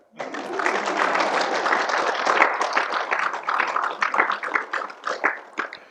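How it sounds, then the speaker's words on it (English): A group claps together in a dense burst of applause that thins into scattered, uneven claps toward the end. "Yes, give him a clap."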